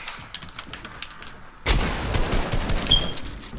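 Gunfire in a Fortnite 1v1 match: quiet scattered shots at first, then a sudden loud burst of rapid shooting that keeps crackling densely close-up to the end, with no talking.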